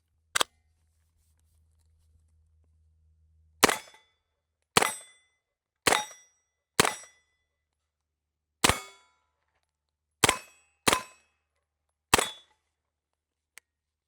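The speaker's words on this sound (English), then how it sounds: "We've got some steel down range, so I'm gonna go ahead and let it rip" Several single sharp gunshots from an HK MP5 at a range, each followed by a ringing clang from steel targets downrange, spaced irregularly about a second apart after a quiet start with a brief low hum.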